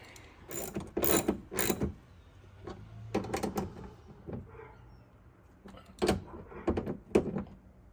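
A ratchet tightens a bolt on a Redline Tuning hood lift bracket fitted to a Jeep Wrangler 392, giving bursts of close, metallic clicking with short pauses between strokes.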